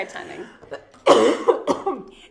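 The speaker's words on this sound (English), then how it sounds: "Sorry, I'm just having a little coughing fit." Brief speech gives way to a loud burst of close, raspy coughs, several in quick succession, trailing off into more voice.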